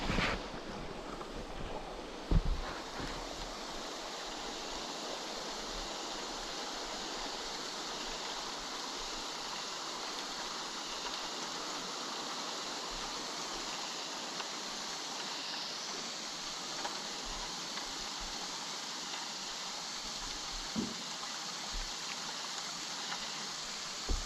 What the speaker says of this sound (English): There's so much sand in the water that you can hear it running along the bottom of the board.